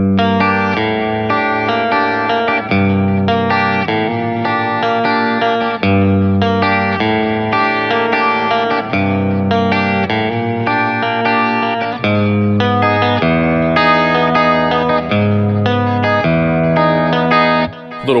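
An electric guitar with distortion and chorus effects plays a sustained chord progression mixing major and minor chords, steady and loud throughout with no talking.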